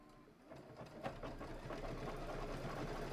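An embroidery-capable sewing machine stitches out a design for a table topper, a steady close rhythmic whirring and tapping that builds and runs continuously at low level with no talk.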